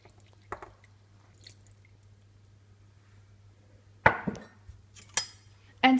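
Dissolved honey liquid added to a dry bread flour mixture, heard as a few brief, soft, wet squelches and drips over near silence and a low steady hum.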